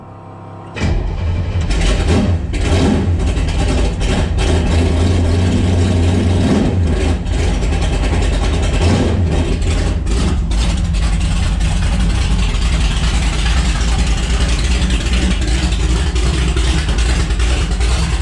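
A 1965 Impala SS drag car engine cranks and catches after a moment of quiet, then settles into a loud, rough, rumbling run close by for the rest of the stretch, with uneven bursts early on.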